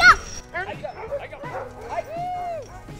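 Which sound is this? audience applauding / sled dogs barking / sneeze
sled dogs barking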